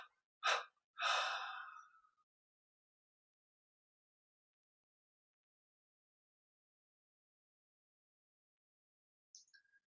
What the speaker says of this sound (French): on prend une inspiration profonde, 3 expires pour abandonner les techniques